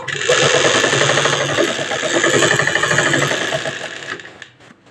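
A sewing machine stitches a kurti along opposite side seams, running loud and steady with a dense rapid mechanical chatter for about four seconds before slowing and stopping near the end.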